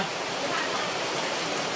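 Heavy monsoon rain pours steadily outside a house at night, a dense, even roar of falling water with no breaks and no voices over it.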